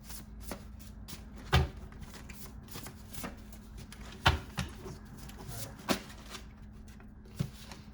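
Tarot cards being shuffled up close, with repeated soft riffling and a few sharper slaps and taps as the deck is handled, and no voices.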